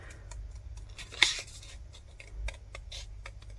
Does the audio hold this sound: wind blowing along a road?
no